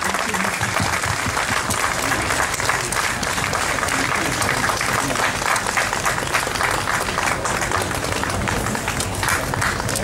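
Steady, dense applause from a large audience at a Tibetan-cause event holds at full strength for ten seconds, a continuous wash of many hands clapping with no break.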